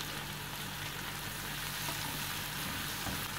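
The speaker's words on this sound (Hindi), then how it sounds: "मीडियम साइज टमाटर चॉप करके ऐड कर देंगे, इसे भी थोड़ा भून लेंगे।" Chopped tomatoes and peas fry in a pan for Mumbai street-style pav bhaji, giving a steady, even sizzle with a low hum beneath it throughout, no voices.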